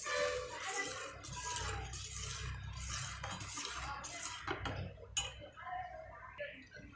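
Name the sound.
stirring custard powder mixture in a pan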